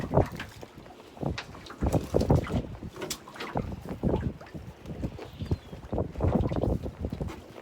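Strong wind buffets a small beach-launched fishing boat at sea during herring netting, with gusty broadband rushing and microphone buffeting, irregular splashes and knocks throughout, loud and continuous with no voices.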